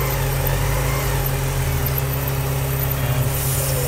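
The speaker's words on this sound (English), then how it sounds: "you see the engine wants to die, it wants to backfire and spit" An 1985 Porsche 944 engine struggles with an open intake vacuum leak, its close steady idle dipping and wavering partway through as it threatens to die, with no voices.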